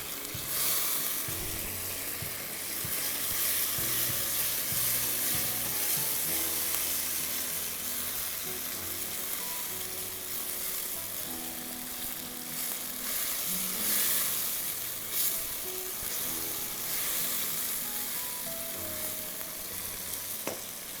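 Chicken pieces and finely chopped tomato frying in a pan for a green masala handi: a continuous crackling sizzle with bursts of spitting and occasional stirring scrapes, close and steady throughout, no voices.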